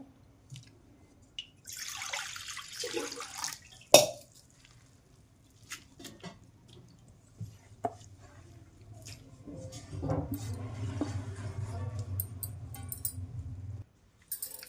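Grated potato is washed in a bowl of water to rinse off the starch, giving quiet, intermittent splashes, drips and sloshing with a few sharp knocks and a stretch of steady swishing near the end.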